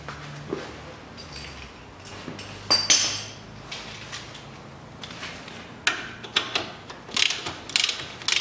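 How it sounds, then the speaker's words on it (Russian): Ratchet tightening a new 17 mm nut on a 2012 Nissan Qashqai 2.0 during a steering tie rod replacement, close rapid clicking bursts with short pauses between strokes and metallic clinks, no talk. "И закручиваю гайку. Новая гайка уже на 17."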